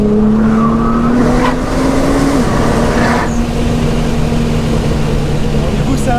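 A Nissan GT-R Track Edition driving, its engine a steady loud drone heard from inside the cabin with a rising and settling pitch as it accelerates, while someone talks over it in French.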